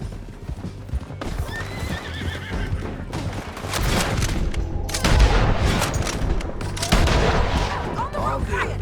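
Horses in Red Dead Redemption 2 gallop with steady hoof clatter and give loud neighs, mixed with bursts of gunfire and a busy action soundscape.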